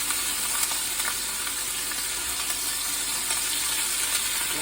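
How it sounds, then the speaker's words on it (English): Ground turkey fries in a pan as it is broken apart, giving a loud, steady crackling sizzle with faint scraping of a utensil, heard alone without speech. "I have my ground turkey. I'm gonna put it in the pan. All right, I'm just gonna break it apart."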